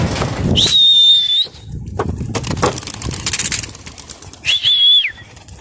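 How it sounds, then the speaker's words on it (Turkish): Pigeons being released to take flight, with a sharp tonal whistle twice over bursts of wing flapping and rustling, close and fairly loud, with short quieter gaps between. "Şimdi ben kaldıracağım kuşlarımı."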